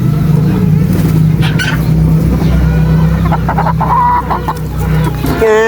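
Many backyard chickens cluck steadily and loudly, with a busy flock close by kept in a bamboo enclosure, while a rooster-like call and scattered background noise run underneath.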